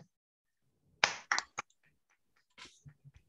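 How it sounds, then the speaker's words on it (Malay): A few sharp hand claps during an online communication course session, in two short clusters near the start and then scattered softer taps, fairly close and isolated against quiet. "Okay, tepukan, tepukan."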